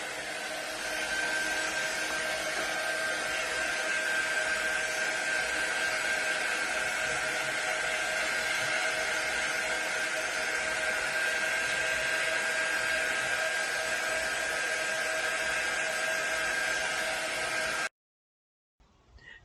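A hair dryer blows on a DIY kitchen sign transfer, a loud, steady whooshing whine that holds for about eighteen seconds before it is switched off abruptly.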